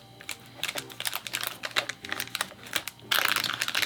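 Crinkling plastic packaging as a double-bagged Nezuko Kamado figure from Tamashii Nations is unwrapped, close and busy, with rapid rustles and crackles in bursts that get louder and denser near the end.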